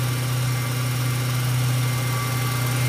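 A car engine idles steadily with a low, even hum and a faint ticking, constant and close throughout with no voices.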